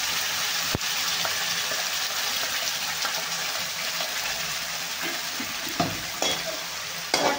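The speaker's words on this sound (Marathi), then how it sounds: "आता मसाला आपल्याला थोडासा भाजून घ्यायचा आहे." Whole spices and a ground masala paste roast in hot oil in a pan for a dhaba-style egg curry, giving a continuous bright sizzle and crackle with occasional stirring scrapes and clinks, close and steady, with no talking.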